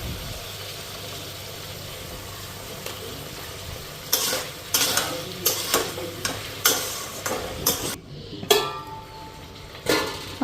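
Spice masala frying and being stirred in a pan for a dried fish curry with beans, with a steady low sizzle and a series of sharp scraping stirs from about four seconds onward, nearby and with no talk.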